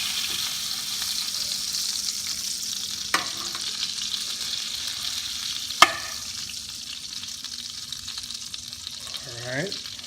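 Butter melts and sizzles in a frying pan before mackerel goes in, a steady soft hiss with a couple of sharp clicks from the pan and a brief chirpy squeak near the end.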